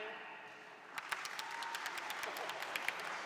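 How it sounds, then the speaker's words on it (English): A convention audience at a MINECON 2015 Minecraft panel breaks into applause after a quiet pause, the claps building into a steady, moderately distant patter. "clap now."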